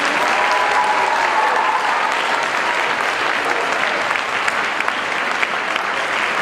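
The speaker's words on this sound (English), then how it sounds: "Can we please get one more round of applause to the Lakeview Band staff for hosting us this evening?" An audience at a middle school winter concert applauds steadily and loudly, a dense, continuous wash of clapping that holds throughout without letting up.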